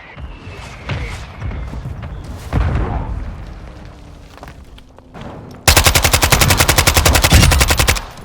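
Video game gunfire in Call of Duty MWII multiplayer: scattered shots and booms give way to a sustained, loud burst of rapid automatic fire that hammers on for over two seconds before stopping.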